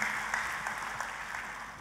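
A church congregation applauds together in a steady, dense burst of clapping that fills the space and holds through to the end, with no voices over it.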